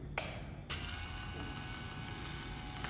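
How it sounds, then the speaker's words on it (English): A brushed DC motor drives a linear actuator, giving a faint, steady mechanical hum with a gritty gear-like buzz and a couple of brief clicks near the start, running continuously for about three seconds. "Here is a speed controller used to control this brushed DC motor."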